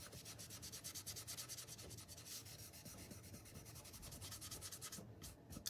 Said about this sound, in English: I'm just gonna rub it in the same direction as the wood grain